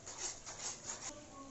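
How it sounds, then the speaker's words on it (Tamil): Masala for crab curry being stirred and sautéed in a pan, a soft rhythmic scraping with a faint sizzle, heard close and quiet. "நல்லா எண்ணெய் பிரிஞ்சு வர வரைக்கும் நல்லா வதக்கிக்கோங்க"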